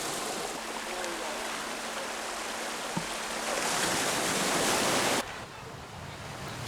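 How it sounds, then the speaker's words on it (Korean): Rough waves crash and wash over a pebble beach on Wando island, a loud continuous roar that swells toward the end, then drops suddenly into a quieter wash. "시차를 두고 몽돌에 부딪히는 파도 소리는 마치 천둥 소리처럼 긴 여운을 남긴다."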